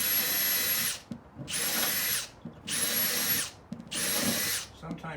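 A power drill enlarging a hole while building a cabinet whirs in four loud bursts of about a second each, with short quiet gaps between them.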